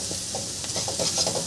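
Vegetables for street-style veg fried rice being stirred in a pan, with a steady sizzle under repeated scraping strokes in an uneven rhythm, close and fairly loud, with no one talking.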